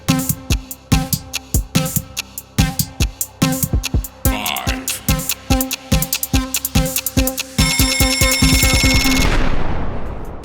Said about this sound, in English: Next up, we want to start the timer.